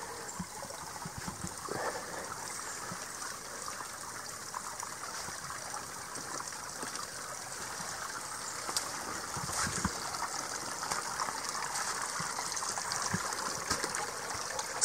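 Steady rushing of flowing water, like a creek spilling over a small fall, continuous and moderately loud with small splashes and gurgles throughout.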